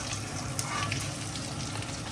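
Fish frying in hot mustard oil gives a steady, close sizzle and crackle that stays even throughout, with no talking over it.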